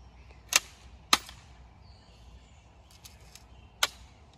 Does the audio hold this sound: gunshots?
yes